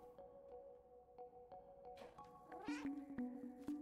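Cat meowing in the video game Stray, a short rising meow followed by a couple of softer chirps over a quiet steady tonal hum and faint ticking clicks.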